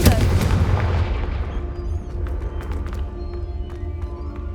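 Confringo spell explosion in Hogwarts Legacy, a loud booming blast with rumbling low end that decays over a few seconds into scattered faint clicks and ambience.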